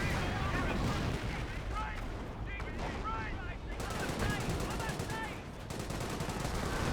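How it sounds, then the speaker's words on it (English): Stun grenades and gunfire in Company of Heroes, a dense stretch of rattling shots and bursts beneath ongoing commentary talk, with whistling shells overhead. "More stun grenades there, getting some great damage."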